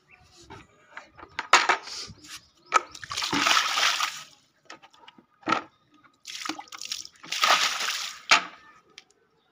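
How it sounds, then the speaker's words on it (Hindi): Water poured from a bucket onto plant pots of rose cuttings, arriving in several splashing bursts with drips and quiet gaps between pours. "अब डालता हूँ मैं पानी।"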